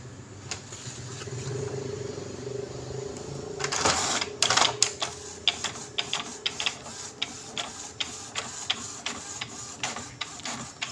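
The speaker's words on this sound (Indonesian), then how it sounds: "Kita mau tes print dulu 1 lembar." An Epson L310 inkjet printer runs a single-page test print after printhead reinstallation, whirring as it feeds, then ticking in a steady series of close, sharp clicks as the carriage moves, with no talking.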